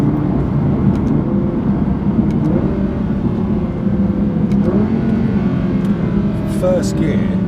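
An Audi R8 RWS V10 accelerating in first gear, a loud close engine drone with rising tones, heard from inside the car with a voice talking over it.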